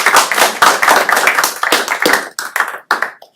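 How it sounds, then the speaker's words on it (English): Close, loud clapping from a small audience after a talk on nature-based solutions, a brisk run of individual claps that thins into a few scattered final claps. "Okay, can we have another round of applause for Matt,"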